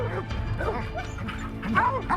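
Hunting dogs, coonhounds and Plott hounds on a mountain lion's trail, giving a rapid run of short yipping barks and whines at moderate distance, overlapping one another in quick bursts.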